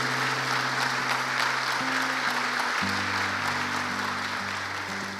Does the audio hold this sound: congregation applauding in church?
yes